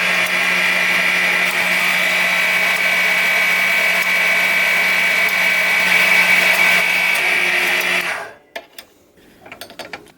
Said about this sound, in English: if you don't have a metal bandsaw like this one, you can use a hacksaw